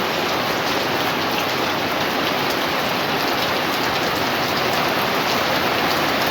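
Heavy rain pours down steadily in the Biedouw Valley, a dense, loud, unbroken hiss of drops drumming on surfaces near a plunge pool, with no voices.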